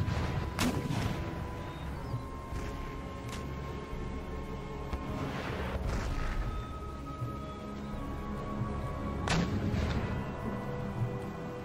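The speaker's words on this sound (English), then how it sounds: "So what is their artillery shooting at?" Artillery fire in a battle in Empire: Total War, near Madrid: several heavy cannon shots boom at uneven intervals over a low continuous battlefield rumble, fairly distant and muffled.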